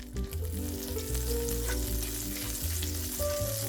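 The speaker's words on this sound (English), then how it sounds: "Let the butter get all melted." Butter melting and sizzling in a Lodge cast iron skillet for refried beans, a steady loud frying hiss with some low humming tones running throughout and no talking.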